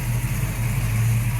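A Ford Mustang engine idles steadily, a low, even rumble heard up close with no other sounds.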